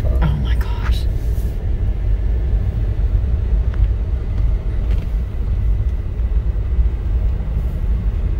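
A Jeep rumbles as it drives up, a low steady engine and road roar that runs throughout, with a few light knocks early on and people talking over it.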